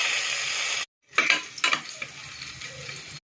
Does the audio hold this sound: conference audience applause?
no